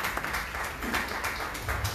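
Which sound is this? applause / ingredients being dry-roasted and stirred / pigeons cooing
applause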